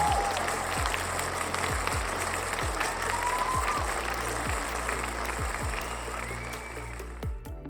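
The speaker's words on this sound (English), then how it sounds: "Round of applause." Steady applause from an audience at a live VR pitch event for a creators fund, a continuous wash of clapping lasting throughout with no speech over it.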